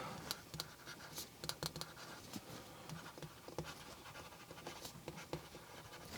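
A calligraphy pen stylus writing on a Boox Go 10.3 Gen II e-ink tablet screen, giving soft, irregular scratchy strokes with brief taps, close and quiet, with no talking.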